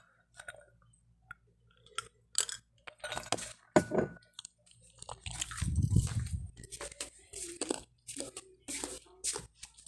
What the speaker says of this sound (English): I'm chewing on ice